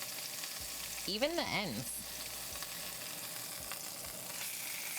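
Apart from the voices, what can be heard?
rack of pork searing in a pan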